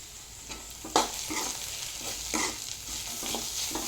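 Finely leaved wild bitter greens cooking in a pan, a constant close sizzle with several short stirring scrapes at irregular intervals, no voices.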